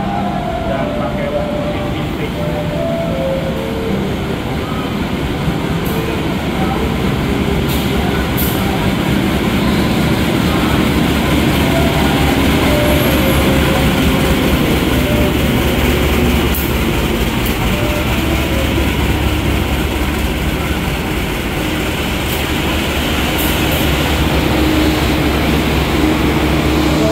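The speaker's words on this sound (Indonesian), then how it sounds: "baru masuk di jalur 1 stasiun Semarang Tawang ini adalah kereta api Kedung Sepur" Kedung Sepur commuter train from Semarang Poncol pulling into platform 1 at Semarang Tawang station, a loud, continuous rumble of rolling wheels and engine that holds steady for almost half a minute, with faint clicks and a voice now and then.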